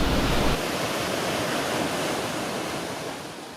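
Broad, continuous roar of a waterfall near Gudbrandsjuvet café at Trollstigen, Norway, a dense rushing wash that stays loud and steady throughout with no voices.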